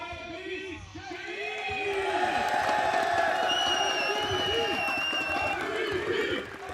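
A large crowd at a basketball tournament final cheers and whoops steadily for the league MVP, loud and sustained with shouts rising over the roar throughout, while an announcer speaks over it.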